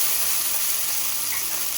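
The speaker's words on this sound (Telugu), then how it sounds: "కొద్దిగా నీళ్ళు చల్లుకున్నాను." Water sprinkled onto a hot dosa pan (atla pan) gives a steady, close, even hiss of sizzling and steam that lasts about two seconds, with no voices.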